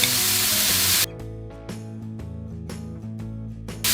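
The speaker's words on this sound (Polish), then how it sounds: "Niech się pięknie smażą" Thin slices of beef for oyster beef frying in a hot pan, a loud steady sizzle that drops suddenly partway through, leaving a softer crackle with faint clinks and tonal hum beneath.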